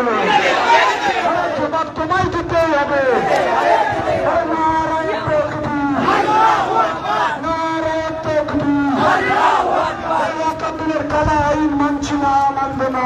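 A crowd of marchers at a Bengali protest rally against the Waqf law shouts slogans in loud rhythmic call-and-response, voices rising in unison in repeated waves over general clamor.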